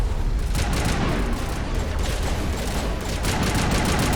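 Continuous, dense gunfire rattles from Mass Effect combat, a loud unbroken barrage of shots and bursts with no clear gaps across the whole stretch.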